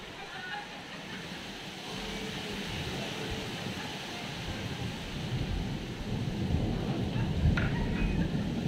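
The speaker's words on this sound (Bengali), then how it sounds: "তো বাইরে ঝড় উঠেছে" A thunderstorm outside, heard from indoors beside a window, gives a low, continuous rumble that slowly swells louder with a faint sharp crack near the end.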